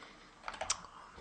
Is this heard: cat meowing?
no